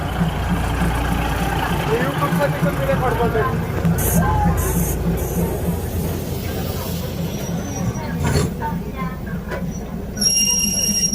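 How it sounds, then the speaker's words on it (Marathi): A train rumbles loudly past at close range through a railway market, its wheels squealing and clattering on the rails, while a crowd chatters nearby. "एकदम दमादमान चालली ट्रेन."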